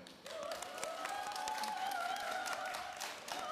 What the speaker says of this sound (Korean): 현장에 계시는 분들이 박수로 이사장님의 이야기를 맞이해 주셨으면 좋겠습니다